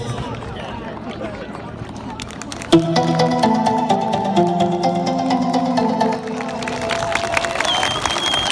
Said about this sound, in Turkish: Güçlü alkışlarla öğrencilerimizi yerine alıyor.